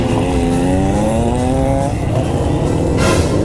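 A car engine that had stalled catches and runs again, a loud, close revving drone that rises in pitch and then steadies, with no talking over it.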